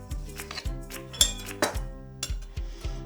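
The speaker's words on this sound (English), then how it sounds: "I like to wipe off my knife blade after each cut." A knife blade is wiped clean between slices of pumpkin cheesecake, making a run of close metallic clinks and taps against a plate or dish at an uneven rhythm, with no talking.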